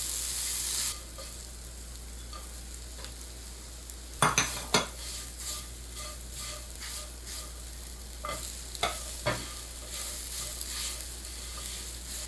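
Onion, ham, carrot, potato, corn and mushrooms stir-fried in a pot for a puff-pastry-topped cream soup, with a steady low sizzle and a few sharp scraping knocks of a utensil, no talking.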